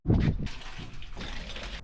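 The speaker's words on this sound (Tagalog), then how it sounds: "Dito na lang tayo magsha-shower." Water gushing from a hand pump at a campsite under a bridge, used for showering, a steady splashing stream falling for under two seconds after an initial thump.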